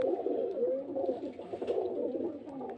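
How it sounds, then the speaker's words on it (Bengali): Two black pigeons of a good breeding line, kept for sale, coo steadily and close by in soft rolling phrases, the calls overlapping throughout with no talk. "খুব ভালো লাইনের পায়রা, দুটোই কালো ব্ল্যাক কালারের পায়রা।"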